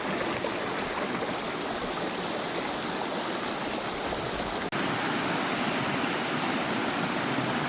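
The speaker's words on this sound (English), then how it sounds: "There's waterfalls or cascades everywhere." Water pours over cascades and small waterfalls on Gheerulla Creek, a steady, full rushing hiss close by that runs unbroken, with a single brief knock near the end.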